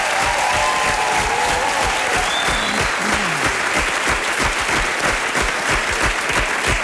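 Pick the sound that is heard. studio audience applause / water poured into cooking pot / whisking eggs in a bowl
studio audience applause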